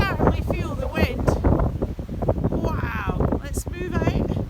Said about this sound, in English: And you can certainly feel the wind.